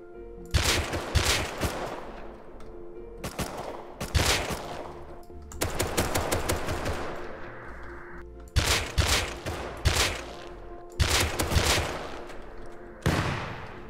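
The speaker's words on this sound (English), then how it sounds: "The early stages are easy work now that we have the semi-rifle and we cut through them like butter." Semi-automatic rifle fire in the video game Rust, heard as rapid bursts of sharp shots in several clusters separated by brief pauses, loud and close with no talking.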